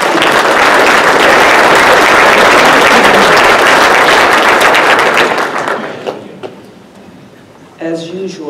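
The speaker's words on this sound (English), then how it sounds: "Give them an applause, please." A large conference audience breaks into loud, dense applause that rolls on for about six seconds, then quickly dies away before a voice begins speaking.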